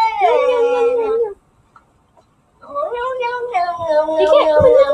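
A cat yowling in long, wavering, howl-like cries, loud and near, broken by a short silence before the yowl resumes with a voice underneath.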